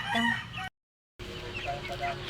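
Live chickens being sold by weight cluck and squawk nearby, broken by a brief moment of silence before the clucking resumes.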